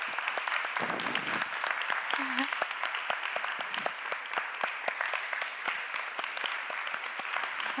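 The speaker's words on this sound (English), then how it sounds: "So if we could please have a round of applause for Judith Kerr." Audience applause fills a debating hall as an author is welcomed on stage, a steady wash of clapping from a large crowd lasting throughout with no pause.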